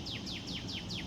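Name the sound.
birds chirping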